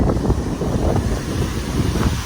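Strong typhoon wind buffets the microphone over churning, surging seawater as the sea pushes into coastal houses in Barangay Nato, Sagñay, Camarines Sur, a steady loud roar with gusty low rumbles throughout and no voices.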